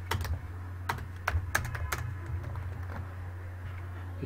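Clicky computer keyboard typing while entering Python code, a run of quick irregular keystrokes close by with a few louder taps, over a steady low electrical hum.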